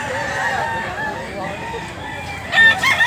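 An 11-month-old male rooster crows at moderate volume among other fowl sounds, while people talk nearby.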